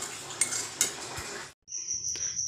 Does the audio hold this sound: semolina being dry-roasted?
yes